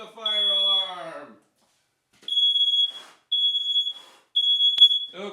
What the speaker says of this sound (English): And there goes the fire alarm.